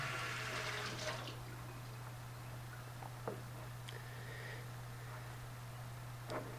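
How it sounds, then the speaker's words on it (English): Running tap water splashing over fresh blackberries as they are rinsed a few at a time, a soft steady wash over a low mains hum, with a few faint clicks and knocks. "I'm just going to rinse a few at a time."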